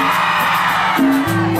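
Concert crowd at an Ica anniversary event yelling and cheering in a loud, sustained roar, with brief tonal sounds rising near the end.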